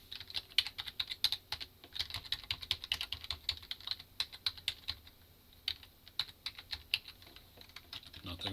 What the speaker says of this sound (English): You could probably hear me hammering the keys there as I went through every letter on the keyboard